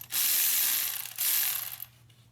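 Ratchet wrench clicking while removing a bolt from a Hyundai Sonata power steering pump, two quick close bursts of rapid metallic ratcheting.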